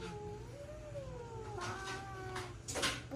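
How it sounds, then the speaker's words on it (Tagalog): A cat meows in drawn-out, wavering, whiny calls, several in a row, fairly close, ending in a louder strained cry, with no talking over it. "cat."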